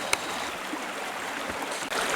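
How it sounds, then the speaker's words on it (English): A clear backcountry stream in Ontario's Frontenac area flows steadily, a close, continuous broadband rush of water with a few brief knocks and no talk. "found this river, maybe a stream, but it's really, really, really pretty"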